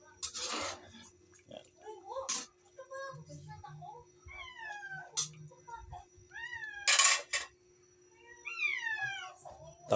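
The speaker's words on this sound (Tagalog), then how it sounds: "Ang ingay ng pusa ko" A cat meows repeatedly in rising, drawn-out cries, with brief bursts of noise and background clatter in between.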